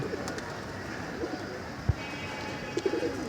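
Pigeons in a loft after a bath give a few soft, brief coos over steady background noise, with a small flurry of calls near the end.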